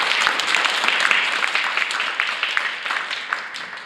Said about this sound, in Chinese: 请大家一起鼓掌